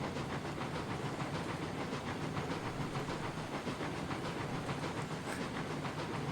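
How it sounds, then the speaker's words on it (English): Steam locomotive of the Mogul type in the Railroads Online video game, chuffing in a fast, steady rhythm with continuous hiss, close and loud throughout. "Just listen to that chuff."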